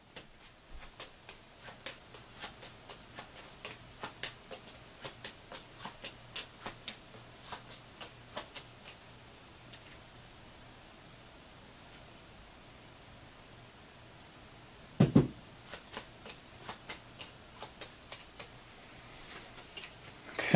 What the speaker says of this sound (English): Just giving the Automa deck a little bit more of a shuffle.